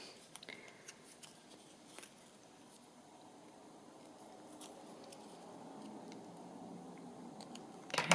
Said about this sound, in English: I'm going to trim off these little corners as well